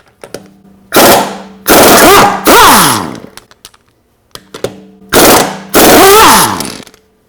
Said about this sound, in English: I'll show you how this Matco sounds